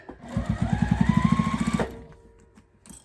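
Close, rhythmic needle thumps from a sewing machine stitching a quilted table runner, a quick even run of about a dozen strokes over a motor whine that winds down, followed by quiet handling.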